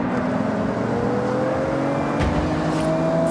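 A Toyota Supra's engine droning steadily while driving in Forza Horizon 6, a continuous loud hum with gradually rising pitch and a brief rev near the end, close and alone with no talking.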